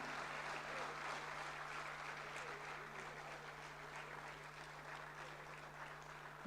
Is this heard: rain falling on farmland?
no